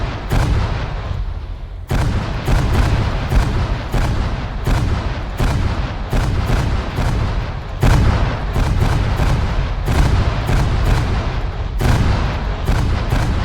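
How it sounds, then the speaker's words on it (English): Land mines exploding in the video game Halo: Spartan Assault, heard as a loud, continuous barrage of booming blasts and bursts with repeated sharp onsets, dense and close with no pause. "Yeah, I'm hearing a lot of explosions."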